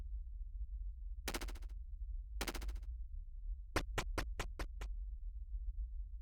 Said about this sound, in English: Somebody just set off a loud-ass firework.